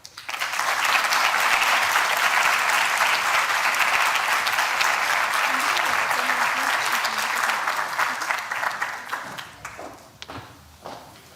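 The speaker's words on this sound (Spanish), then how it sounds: "Recibámoslo con un muy fuerte aplauso." A conference audience gives loud, sustained applause welcoming an ambassador to a keynote lecture, the dense clapping holding steady for several seconds, then thinning into scattered claps and fading near the end.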